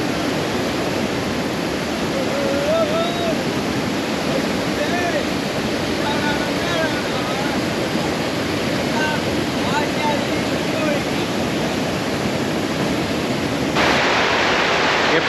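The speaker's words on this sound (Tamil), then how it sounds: "டேமு ஃபுல்லாக ரொம்ப வழியுது" Water pours over a full check dam on the Kosasthalai river at Thamaraipakkam, a steady, dense roar of overflowing water that runs unbroken throughout, with no pauses.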